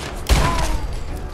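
A single sharp boom from an explosive pistol in Fallout 4, with a loud low-end burst that decays into a rumbling tail under faint background game ambience.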